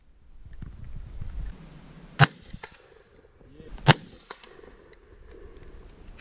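Two sharp, loud shots from an M4A1 Bushmaster rifle a couple of seconds apart, each a crisp crack standing out over quiet outdoor background and faint rustling.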